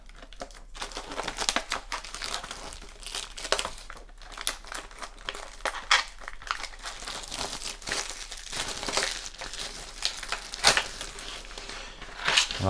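Packaging holding Snap-On and Facom picks is opened, with close, steady crinkling and crackling of plastic and paper, occasional sharper tears and rustles, and no talking.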